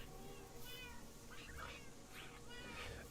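A cat meows several times in a video game, a soft repeated mewing over steady background game sound, with faint voices underneath.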